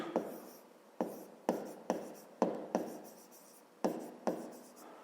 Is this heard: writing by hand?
yes